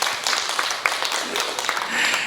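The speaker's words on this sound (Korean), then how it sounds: "함께 영광의 박수를 드릴까요?" Brief burst of clapping from a congregation during a Wednesday family worship service at a church, fairly close and busy for a couple of seconds with no talking over it.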